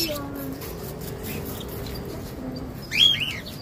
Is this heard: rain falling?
no